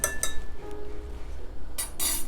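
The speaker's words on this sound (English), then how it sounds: "Now we have our eggs. We are going to beat them." Eggs being beaten with a utensil in a bowl: a few sharp metallic clinks and taps against the dish, close and clear, in short bursts with pauses between.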